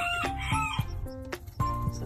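Hens clucking among newly hatched chicks, with rapid overlapping clucks and short bursts of high peeping, close and busy.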